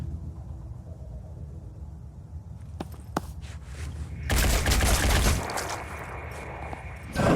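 A squad opens fire in the video game Phoenix Point, starting with a couple of sharp single shots and then bursting into a dense, loud volley of gunfire that lasts a few seconds before one more blast.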